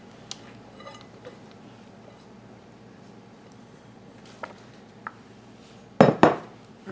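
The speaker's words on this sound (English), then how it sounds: "So I'm just going to dump my veggies in there." Chopped fresh vegetables tumble into a pasta salad bowl with a short, loud clattering rush near the end, after several seconds of quiet kitchen handling and a few light clicks.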